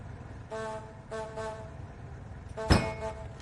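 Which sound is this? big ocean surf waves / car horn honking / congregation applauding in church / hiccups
car horn honking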